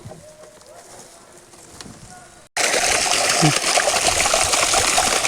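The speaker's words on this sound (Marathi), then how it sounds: "आपण आता पंपाचं पाणी सुद्धा बघूयात की हे पाणी कशा पद्धतीत पंप मारतो" A solar water pump with a 70-metre head, drawing from about 200 feet down, is switched on, and a loud, steady rush of gushing water suddenly replaces a quieter stretch, continuing unbroken at close range.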